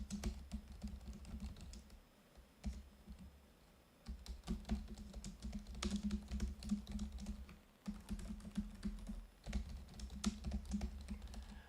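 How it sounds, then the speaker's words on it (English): Fast, steady typing on the keyboard of an Asus Scar 18 gaming laptop, a dense run of close, crisp key clicks in bursts with brief pauses between them, alone without talk. "I'm gonna let y'all hear when I'm typing and stuff."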